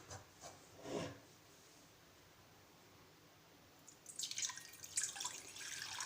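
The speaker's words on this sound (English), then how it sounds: "So here I have taken a pan in which I will pour the water." Water is poured into a cooking pan while vegetable vermicelli pulao is being prepared. A soft splash comes first, then after a quiet stretch a steady, bright pouring rush runs to the end, with no talking.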